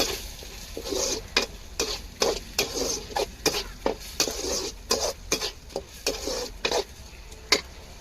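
Shallots, tomato, ginger and garlic sauté in a pan, sizzling softly while a spoon scrapes and stirs in quick, repeated strokes, close and clear with no talking.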